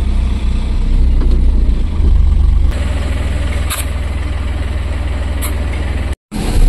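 A diesel truck engine runs on a highway after leaving a petrol pump: a loud, close, steady low rumble with a deep idling throb at the start that shifts in pitch partway through, with a brief dropout near the end.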